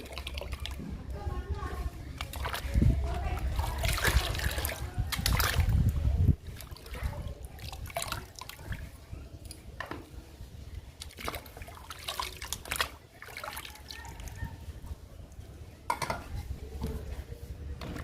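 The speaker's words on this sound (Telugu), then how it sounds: "ఈ వాటర్లో పేస్ట్ కలుపుతున్నాను" Water sloshes and swirls in a bucket of about 20 litres as potato peel paste is stirred in, with splashing and a few knocks against the container.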